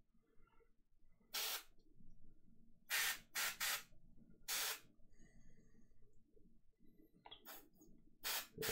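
Short hissing bursts from an airbrush spraying paint onto a wargaming miniature, several separate sprays of about half a second each, close and clear against a quiet background.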